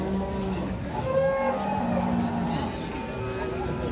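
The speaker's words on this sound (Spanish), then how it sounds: "ya vamos a ver unas vaquitas que están por allá" Cattle mooing repeatedly at an open-air livestock market in Aguilares, El Salvador, several overlapping low calls close by over a busy crowd murmur, with people talking nearby.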